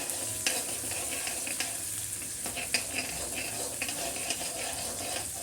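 Chopped onion frying in a pan for poha, with a steady close sizzle and scraping stirs running throughout, no voices.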